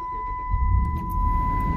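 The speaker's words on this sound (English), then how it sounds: "but we're gonna crank the car up." A 2006 Dodge Ram 1500 engine cranks and catches, a low rumble swelling after about half a second and holding steady close by, with a thin constant electronic tone running over it.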